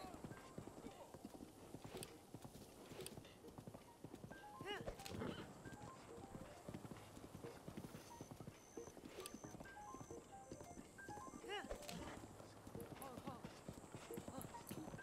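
Horse hooves clip-clop steadily in a video game while someone talks over them throughout, with occasional game chimes and effects mixed in.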